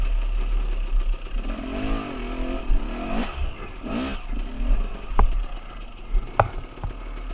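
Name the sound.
motorcycle engine while riding off-road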